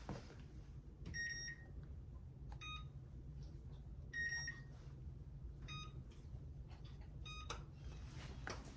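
An electronic oven panel gives a series of short, bright beeps in separated bursts as preheat is set, quiet and close over a low steady hum, with no talking.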